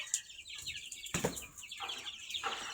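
Native hens clucking on a rooftop at morning feeding time, several short close clucks and squawks in quick bursts over faint background.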